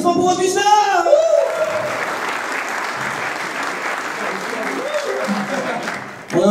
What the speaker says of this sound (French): Applaudissements pour Augustin